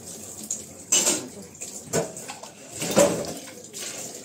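Dishes are washed by hand with hot water, with uneven bursts of splashing and rinsing and the light knock of utensils, close by and fairly quiet.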